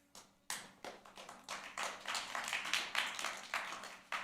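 An audience at a town council meeting claps, a scattered burst of hand claps that builds into steady moderate applause in a quiet room.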